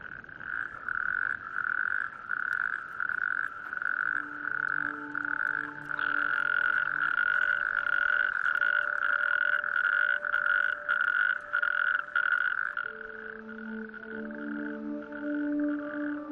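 Natterjack toads call in a chorus, long continuous rattling trills overlapping near and farther off, with extra croaking voices joining toward the end.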